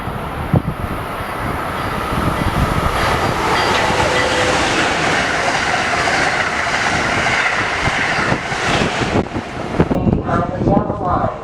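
An Amtrak train passes through Old Saybrook station on a windy day, a loud, continuous rumble and rattle of rail cars close by with wind buffeting the microphone, the noise thinning and breaking up toward the end.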